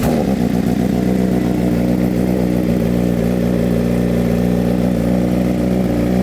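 A BMW M1000RR superbike engine runs alone up close, its loud, steady high-pitched rev holding with dense harmonic whine and faint mechanical clatter throughout.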